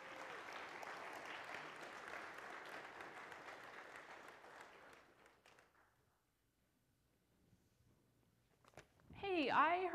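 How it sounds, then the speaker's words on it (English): A church congregation at a Thanksgiving service bursts into applause, a dense sustained clapping that fades out after about five seconds, followed by near silence and then a brief, loud burst of speech-like sound at the end. "I think we could give her some applause."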